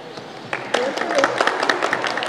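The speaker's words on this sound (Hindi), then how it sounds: "लिए तालियां बजाइए।" An audience at a school prize-distribution function breaks into applause, the clapping starting sparse and building into a steady crackle of many hands, with some talk mixed underneath.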